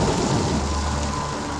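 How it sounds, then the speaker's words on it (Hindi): A storm roars through a bedroom window, with steady heavy rain and a deep rumble of thunder filling the space loudly and continuously. "खिड़की से आने वाले तूफान का शोर"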